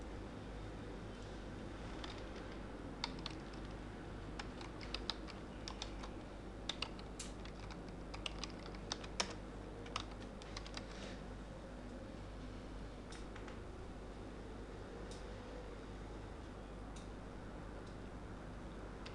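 Keyboard typing during an Oracle Forms development session: scattered clicks and keystroke bursts, faint and fairly close, over a steady low hum, no talking.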